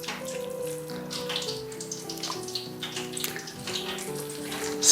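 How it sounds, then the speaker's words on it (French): Chicken pieces being rinsed under running tap water for homemade nuggets, a continuous close splashing stream with small irregular drips and gurgles, no voices. "On mouille un peu ici, on rince dans l'eau."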